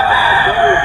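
A young California Dom rooster, a stag, crows once in a short, loud, close call that fills the whole moment.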